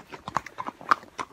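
Horse hooves clip-clopping on a road in Ireland during a long saddle ride, a quick uneven series of sharp close hoof strikes with no talking.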